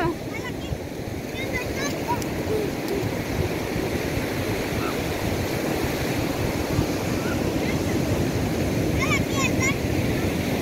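Ocean surf rolling and washing up onto a beach where a crowd of people and children are playing, a steady loud roar of waves with wind buffeting the microphone and voices calling out now and then.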